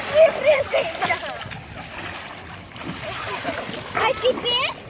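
Kids jump and splash into the sea nearby, bursts of splashing and churning water mixed with children's chatter and squeals throughout.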